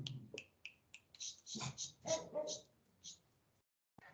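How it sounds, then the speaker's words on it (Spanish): Three dogs make noise indoors during an online class, with a series of short sharp yips and whimpers, quiet and fairly close, mixed with bits of a person talking. "Yo tengo 3 perros que andan saboteando mis clases."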